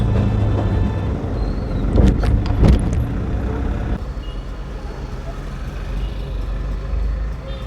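A vehicle carrying centering construction labourers drives along with a loud, steady engine rumble throughout and a brief burst of rattling clatter partway through.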